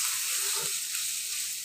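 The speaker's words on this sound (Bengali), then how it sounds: "মশলাটা একটু কষিয়ে নিচ্ছি" Spice paste with green chillies sizzles steadily in a pan for a Bengali potato and Bombay duck curry, a continuous close frying hiss with a brief stir near the middle and no talk.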